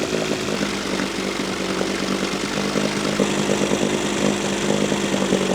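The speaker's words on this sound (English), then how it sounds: "this engine's running really good now" An outboard boat motor runs steadily at close range after being tuned, a continuous mid-pitched engine drone with a faint throb and no talk over it.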